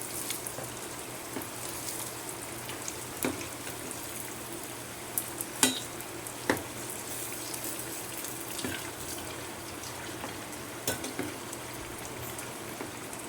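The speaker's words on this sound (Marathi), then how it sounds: "पालटी पालटी करून भाजून घ्यायचे ते अशा पद्धतीने" Dahi vada fritters frying in hot oil and being turned over, a steady low hiss of bubbling oil with occasional sharp clicks and scrapes of the turning utensil.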